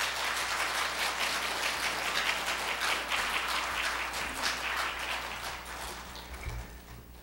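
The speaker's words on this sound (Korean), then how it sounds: "변 목사님 나오실 때 박수로 환영해 주시기 바랍니다." A congregation in a church service claps in sustained applause to welcome a pastor, a thick, steady roar of many hands that holds strong before tapering slightly near the end.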